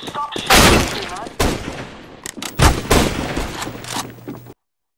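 Close, loud gunshots ring out in Counter-Strike: Global Offensive, several sharp bursts spaced irregularly with echoing tails, over game background noise.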